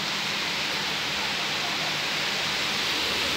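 Heavy rain pours steadily over Bucharest as a dense, continuous hiss close by, with no breaks or distinct drops and no voices.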